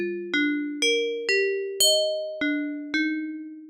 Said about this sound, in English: things like bells